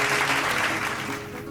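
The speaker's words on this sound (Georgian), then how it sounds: "ძალიან საჭირო ტაში იყო." Brief, dense audience applause at a live comedy talk show, loud and close, fading slightly at the end.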